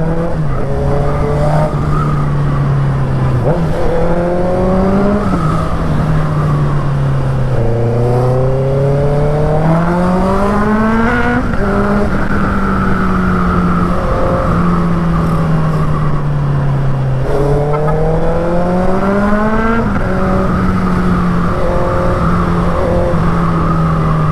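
A Honda CB650R motorcycle engine (2023 model) revving loudly and repeatedly, its pitch climbing and dropping through several throttle blips, close and continuous with no talking.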